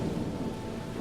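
A thunderstorm rumbles with a broad, steady wash of low thunder and rain noise, continuous and moderately loud over a short stretch with no distinct peaks.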